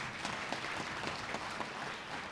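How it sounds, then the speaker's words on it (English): Young leaders at a summit in Nairobi's KICC clap for themselves in a brief, even burst of crowd applause with no pauses. "Why don't you clap for yourselves?"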